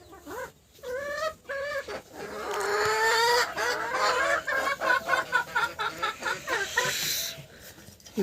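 Domestic ducks near their eggs give loud repeated harsh calls, rising into a busy chorus of honks and quacks close to the microphone, with hens clucking among them.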